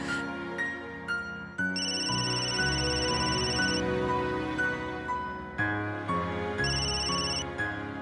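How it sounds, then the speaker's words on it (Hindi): A telephone ringtone plays loudly as a looping electronic melody, repeating its phrase continuously with no voices over it. "फोन उठाओ, फोन उठाओ"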